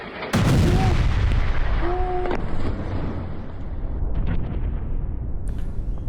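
A loud explosion from a strike on a Hezbollah command center in a residential area of Beirut bursts in suddenly, followed by a long rumbling roar that slowly fades, with faint crackles late on.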